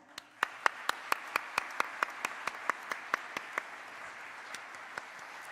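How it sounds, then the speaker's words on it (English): Scattered, sparse hand claps from a small audience at an award ceremony ring out one at a time in a roughly even rhythm, fairly faint and echoing in a hall. "another round of applause for them"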